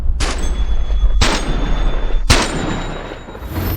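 A STEN gun fires in the video game Boneworks, three loud, close, booming shots spaced about a second apart, each with a short ringing tail.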